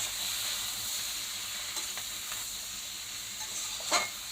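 Vegetable khichuri sizzling softly in a hot pan, a steady low hiss with a few faint scrapes of stirring near the end, no voices.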